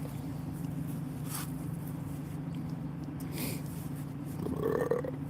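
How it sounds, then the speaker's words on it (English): A man at home over coffee lets out a low, drawn-out burp near the end, close to the mic, over a steady low background hum. "Oh, that was a good burp."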